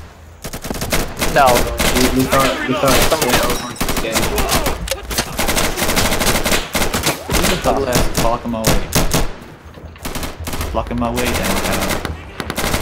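Rapid automatic gunfire and bursts of shots crackle almost nonstop in an Insurgency match, loud and dense, with players talking briefly over the shooting.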